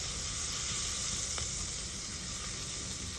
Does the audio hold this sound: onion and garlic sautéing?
yes